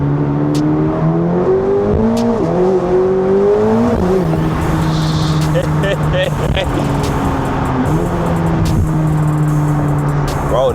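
A 1064-horsepower Corvette C8 ZR1 drives through downtown Chicago, its engine and exhaust droning and rising through pulls and shifts, loud and close from inside the cabin, with someone talking over it.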